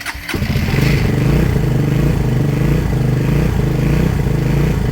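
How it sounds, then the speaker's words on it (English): A Hanway Scrambler 125cc motorcycle catches and settles into a steady, loud idle with the choke on, its even putter running close and alone after a brief starting burst. "I think with choke on, it normally just idles fine anyway"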